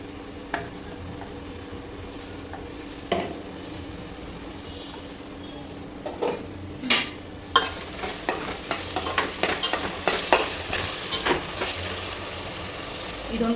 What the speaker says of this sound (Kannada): ಇದೊಂದು 2 ನಿಮಿಷ ಎಣ್ಣೆಯಲ್ಲಿ ಚೆನ್ನಾಗಿ ಬೇಯಬೇಕು.